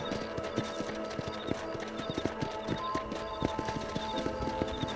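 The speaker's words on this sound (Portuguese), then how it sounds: "agora ela andou com a porcaria do cavalo" Horse hooves clip-clopping at a steady walk in the Red Dead Redemption video game, regular close thuds over a quiet ambient bed with faint tonal chirps, with no talk over them.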